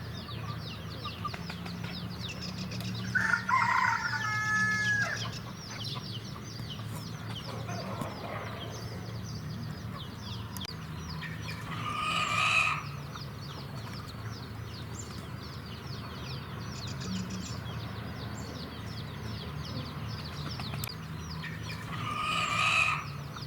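Hens and a rooster in a small zoo set in a moat at a medieval fortress in Malta, heard as a few clucks and crowing calls over steady outdoor background noise, moderately distant.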